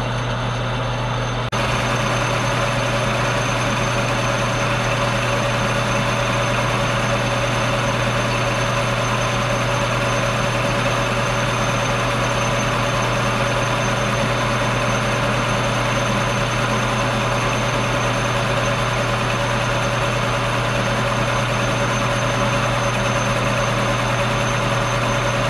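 A lathe takes a cutting pass on mystery metal for a weather vane part, giving a continuous, steady machine drone with a humming motor tone. It runs unbroken for about twenty-five seconds with no talk.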